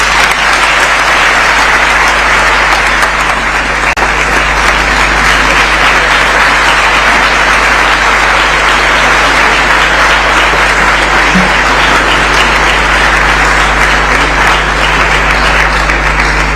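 Sustained audience applause fills the hall at the opening of the World Health Summit Regional Meeting 2026, a steady, dense wash of clapping from a large crowd that holds at an even level throughout, with no talk over it.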